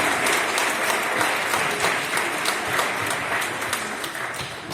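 Steady applause from an audience at the Premi Sambori 2022 award ceremony, a dense wash of many hands clapping that holds for several seconds and tapers slightly near the end, with no voices over it.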